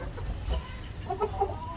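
A hen clucks in a few short, soft bursts near the end, close by over a low steady background hum in a poultry yard.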